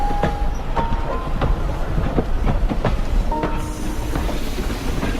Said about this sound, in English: this engine is federally qualified to operate on any railroad in the country